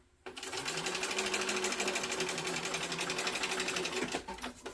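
A sewing machine stitches backpack fabric in a steady, loud, rapid whir that runs continuously for several seconds after a short quiet start, then stops abruptly.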